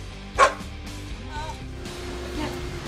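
A dog gives one loud, sharp bark close by, followed by fainter yips and whimpers indoors at a house, with faint background sounds and no clear talk.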